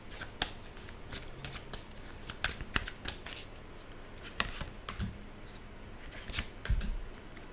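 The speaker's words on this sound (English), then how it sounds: "I saw this card when I was shuffling." Crisp riffling and snapping of tarot cards being shuffled, a run of sharp flicks and clicks up close, with no talking.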